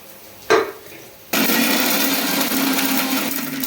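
A brief whir, then a mixer grinder starts up and runs loudly and steadily, grinding pepper, garlic, coconut and cinnamon for egg gravy, its motor roaring with a gritty grinding texture.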